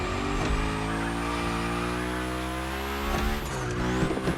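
Car in The Crew Motorfest sliding along a drift line, a loud continuous engine roar with a rising high tire squeal, alone and close throughout.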